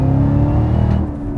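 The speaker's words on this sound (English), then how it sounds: "if you leave it in auto and just floor it" A Chevy Camaro ZL1 1LE floored at full throttle in automatic roars loudly from close by, its engine note climbing steadily before easing slightly near the end, with no talking over it.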